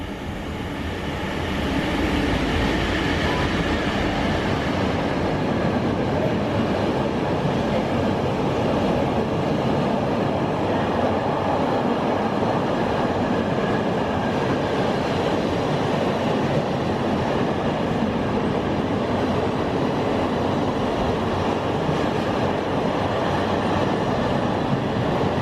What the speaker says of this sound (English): I've just arrived at Rugby and we've got a freight, and Les Ross is down there as well.